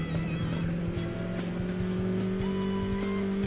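A light rally-style car engine of about 200 horsepower drones steadily at high revs while tires squeal intermittently, loud and close, in Gran Turismo 2 one-make events, with no talking.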